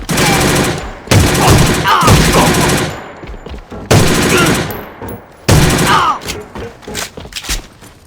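PMX Reunion rifle fired in controlled bursts in the Korean-server A.V.A shooter, four loud close bursts of rapid shots with short pauses between, each trailing into echoing tails and faint mechanical clicks.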